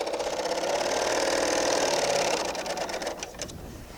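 A BERNINA L890 serger runs off a chain of stitches in a rapid, steady mechanical whir that fades into a few clicks and rattles near the end.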